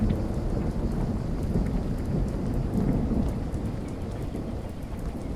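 Thunderstorm in the video game Cosmic Fear: steady heavy rain with deep rolling thunder rumble filling the scene throughout, close and loud with no talk.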